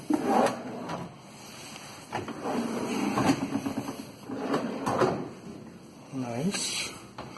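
Soft-close drawers in a furnished home interior glide and settle with a few slow, muted sliding thuds and rumbles, heard close under ongoing talk from people touring the rooms.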